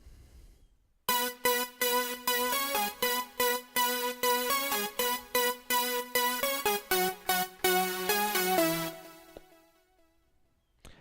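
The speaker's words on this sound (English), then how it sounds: "the main synthesizer sound or lead that you hear that's played during the choruses." Lead synthesizer from a MainStage keyboard patch plays a chorus melody, bright and buzzy with rhythmic repeated notes, loud and alone before fading out at the end.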